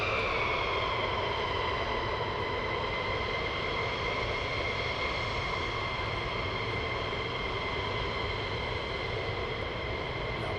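Military jets taxi at RAF Lakenheath, a steady loud engine whine with layered tones and a rumbling low roar that holds unbroken and constant at a distance throughout.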